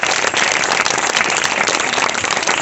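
A crowd at a Christmas gathering claps to welcome a guest, a loud, continuous wash of close applause with no pause, slightly rain-like in texture.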